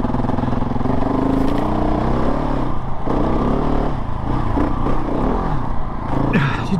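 A modified KTM 690 Enduro single-cylinder motorcycle rides off-road, its engine droning loud and continuous with throttle changes and clattering over rough terrain, with no talking.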